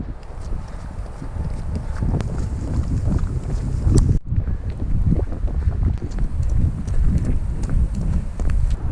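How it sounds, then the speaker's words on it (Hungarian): Strong headwind buffets a runner circling Lake Velence in Hungary, a loud, continuous rumbling gust noise across the microphone with a brief dropout midway. "végig szembe fog fújni a szél"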